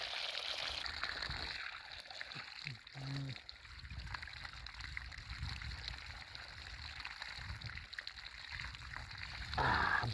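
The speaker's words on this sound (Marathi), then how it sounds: "कोणीतरी नळ चालूच ठेवला आहे ना" Water runs steadily from a tap left on near a farm field, a faint continuous trickle and gurgle with little else around it.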